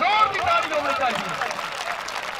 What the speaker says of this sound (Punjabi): ਜ਼ੋਰ ਦੀ ਜ਼ੋਰ ਦੀ ਤਾੜੀ ਹੋਣੀ ਚਾਹੀਦੀ